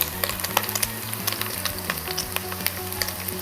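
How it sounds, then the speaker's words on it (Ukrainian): Steady sizzling and crackling of brisket frying in a hot pan until crisp, with scattered pops and a low hum underneath. "Ну і тим часом грудинка вже гарно підсмажилась, такі вижарки у нас вийшли, вимикаю вогонь"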